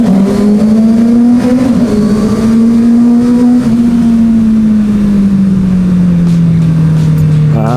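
A motorcycle engine held at high revs as it is ridden, one loud continuous tone that rises slightly and then slowly falls away over several seconds; close and dominant, with no voices.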